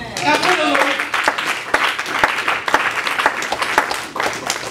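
A church congregation claps and applauds throughout, a dense ragged patter with scattered sharper claps, mixed with voices and cheering from the crowd.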